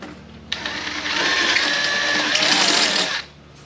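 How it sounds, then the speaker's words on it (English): A step drill bit briefly spins against the edge of a freshly drilled aluminum hole, a close, high whirring burst of about three seconds with a sharp start and stop. "I take one of these step bits and I just barely touch the edge of the fresh hole, and it kind of chamfers the edge"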